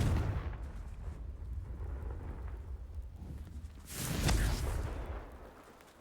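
A Confringo fire spell bursts in Hogwarts Legacy, a deep rumbling explosion swelling near the end after a low, steady background roar, fairly faint overall.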